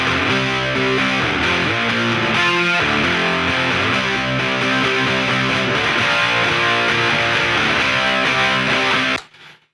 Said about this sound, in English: The best part of this distortion is I can adjust the tone